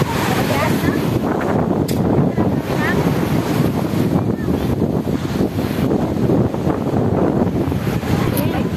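Wind roars across the microphone over a continuous wash of ocean surf, loud and unbroken throughout, with voices talking underneath.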